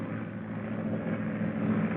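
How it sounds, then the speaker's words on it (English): A propeller airplane drones steadily overhead, a low muffled engine hum that swells slightly toward the end, with no voices. "There's the plane."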